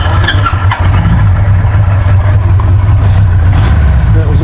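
A 1980 Kawasaki Z1R MK2 motorcycle engine, warm and already run, fires and settles into a loud, steady rumbling idle close by.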